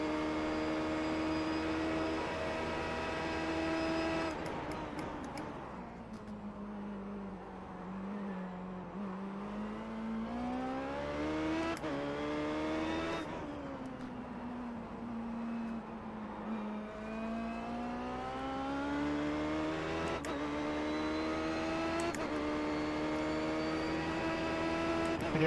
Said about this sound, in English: Slow motion IndyCar racing.